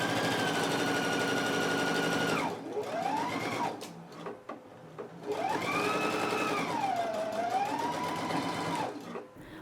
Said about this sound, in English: now I can go to the sewing machine and go ahead and stitch it